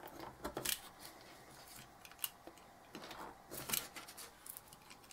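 Scissors snip through a chipboard circle in a craft project, giving a few close, crisp cutting crunches separated by pauses and small handling sounds.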